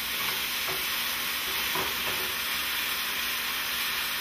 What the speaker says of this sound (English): now our mushrooms and our onions are cooking down a little bit